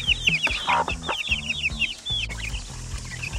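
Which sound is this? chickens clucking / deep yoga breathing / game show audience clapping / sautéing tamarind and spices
chickens clucking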